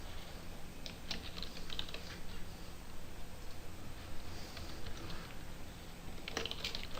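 Rapid keystrokes on a computer keyboard while entering data into statistics software, a quiet, close, continuous patter of clicks with a few louder taps and no talking.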